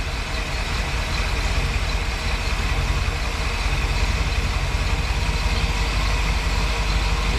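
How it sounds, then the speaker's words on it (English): A Mopar 383 V8 with a four-barrel carburetor swap idles roughly and loudly up close, a steady, uneven low rumble that drones on throughout with no talking over it. "It's just lobbing all over the place right now."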